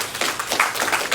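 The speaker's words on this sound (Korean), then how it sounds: "박수 한번 해주십시오" Audience applause in a lecture hall at an entrepreneurship camp event, a brief burst of many hands clapping at moderate volume, steady and dense, with no talk over it.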